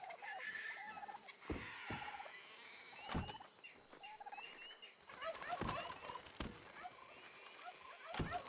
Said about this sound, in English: I guess I should go save those turkeys that are stuck in there.